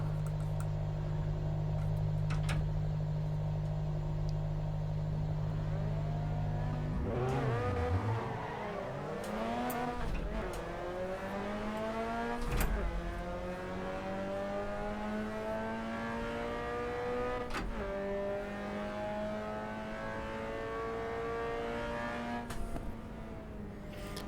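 A Mazda MX-5 engine in the racing game Assetto Corsa Evo hums at idle, then revs up through rising gears, whining steadily with occasional shifts and faint clicks.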